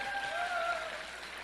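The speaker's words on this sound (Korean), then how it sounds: "박수 한번 주시기 바랍니다." Audience applause at a Korean political talk show event, a steady wash of clapping from a crowd at moderate distance, with a faint tone and voices mixed in briefly.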